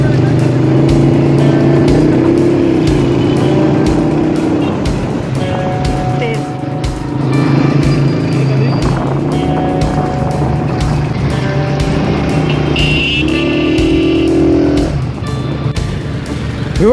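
Cars and motorcycles rush past a cyclist on a busy road, a loud continuous drone of engines with horns and whooshes, while people talk over the traffic.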